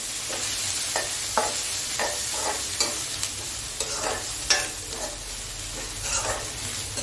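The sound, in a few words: stirring chicken curry masala in pan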